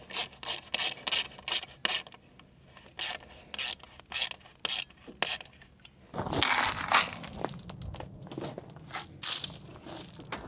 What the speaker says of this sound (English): I'm gonna get these hose clamps around here so it actually holds it better.